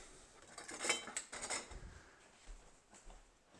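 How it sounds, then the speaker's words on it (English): A few light scrapes and clinks of a spatula working hoisin sauce out of a container in a home kitchen, sparse and quiet with soft knocks and pauses between strokes. "I'm just going to get a spatula so I can scrape it out."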